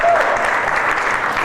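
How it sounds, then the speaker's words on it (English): Brief, loud burst of audience clapping at a comedy roast aboard a cruise, dense and steady throughout with a faint voice over it. "Clap if you saw that."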